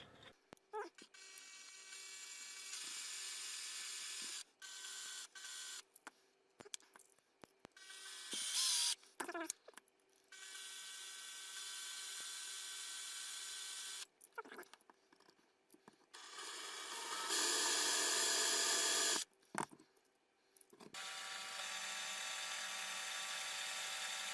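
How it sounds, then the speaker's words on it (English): Drilling out a post with a 4 mm drill bit, close and loud, in repeated bursts: a high whirring motor that starts and stops, with short pauses and clicks between runs. "I'm going to start by trying to drill out the post."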